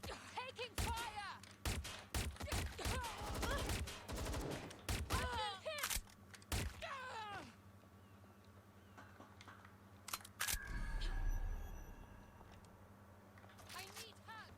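Gunfire in Watch Dogs: Legion, sharp scattered shots and short bursts spread through the scene, mixed with a loud heavier burst near the end, under frequent talking.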